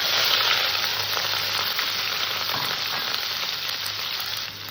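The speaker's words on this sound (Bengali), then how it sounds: "এই তেলের মধ্যেই আমি মাছ কটাকে ভেজে নেব" Fish frying in oil in a pan after potatoes were fried in the same oil, a steady, loud, dense sizzle that holds without pause throughout.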